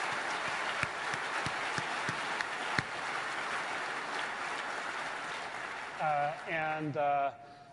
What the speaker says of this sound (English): another round of applause for all the people who brought this together